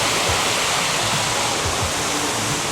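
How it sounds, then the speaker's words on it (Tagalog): An outdoor fountain at Ayala Triangle Gardens in Metro Manila splashes in a loud, continuous rush of falling water, steady and close, with no speech over it. "yan yung pa-fountain ni Mayor dito"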